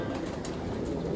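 Pigeons give soft coos, barely rising above a steady, noisy background in a short stretch.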